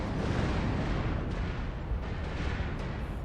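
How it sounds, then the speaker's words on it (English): Missile impacts in MechWarrior Online slamming into a Hunchback 4J mech, heard as a dense, continuous roar of rumbling explosions with no break and no talking. "Warning, incoming missile."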